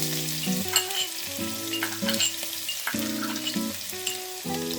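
Cumin seeds and garlic frying in hot oil in a pan, a dense continuous sizzle and crackle close up, with soft background music and no talking.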